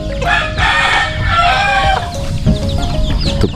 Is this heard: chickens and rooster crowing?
yes